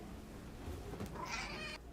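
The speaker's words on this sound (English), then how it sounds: "Hold on, I got cats acted up." A house cat lets out a brief, faint meow near the end, quiet and a little distant over a low background rumble.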